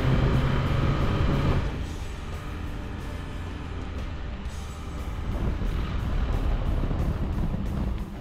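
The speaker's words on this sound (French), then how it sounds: "faut composer avec le bruit du diesel" A Dacia Duster's diesel engine rumbles steadily with a deep, rough, tractor-like drone and a layer of hiss, continuous and loud throughout.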